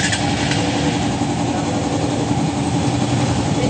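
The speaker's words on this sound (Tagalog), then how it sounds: "Nag-start na itong motor ng ating kaibigan." A Honda XR 150 motorcycle engine running after repair, a loud, steady idle that rumbles without pause, close to the bike.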